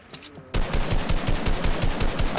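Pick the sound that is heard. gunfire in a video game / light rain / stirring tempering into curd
gunfire in a video game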